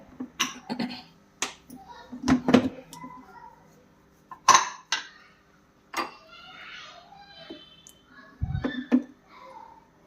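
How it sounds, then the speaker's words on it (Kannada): A pressure cooker lid is fitted onto a pot of country chicken (nati koli) sambar, giving a series of sharp metallic clinks and knocks spread irregularly over several seconds, close and fairly loud, with faint voices at times. "ಇವಾಗ ಕುಕ್ಕರ್ ಮುಚ್ಚಳ ಹಾಕಿ"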